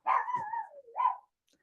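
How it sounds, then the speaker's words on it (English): A dog in the background gives a drawn-out, slightly growly bark that bends downward, then a shorter second woof, at moderate volume with silence after. "I don't know if you guys can hear my dog barking in the background"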